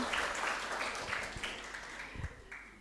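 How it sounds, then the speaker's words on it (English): Audience applause for a guest English teacher being welcomed at an international students seminar, a steady moderate wash of clapping from a crowd that slowly fades, with a few louder claps near the end. "Please give applause to her."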